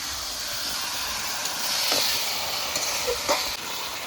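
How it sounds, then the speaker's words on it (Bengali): Hajam guti mushrooms sauté with garlic in a pan, making a steady, close sizzling hiss with a few faint stirring clinks. "ভালোভাবে হজম গুটিটাকে সুন্দরভাবে কষিয়ে নেব"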